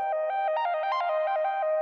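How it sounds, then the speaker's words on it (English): Rapid synth note sequence from a phase-driven sequencer in Bitwig's Grid, short bright plucked tones stepping quickly in a steady pattern over a sustained pitched layer, clear and alone. "we will get for now a very fast sequence."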